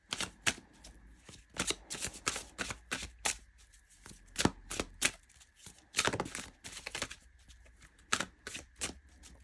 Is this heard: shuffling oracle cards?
yes